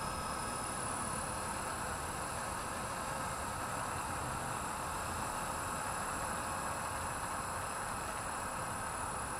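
A Blade 230s V2 RC helicopter flies at twilight, its steady high-pitched rotor and motor whine holding constant and fairly loud as the throttle is eased up.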